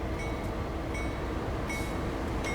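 Union Pacific SD40-2 diesel locomotive in a train simulator game on a Santa Fe Cajon Pass route, giving a steady rumbling roar with faint, evenly spaced clicks of wheels over rail joints.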